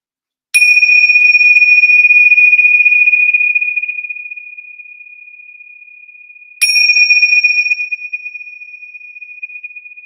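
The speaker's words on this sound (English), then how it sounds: "As you hear the tingshaws, allow the vibrations and the frequencies to run deep through your body." Tingsha cymbals struck twice, about six seconds apart, each strike a bright, pure ring that lingers and slowly fades, sounding close and alone during a guided breathing meditation.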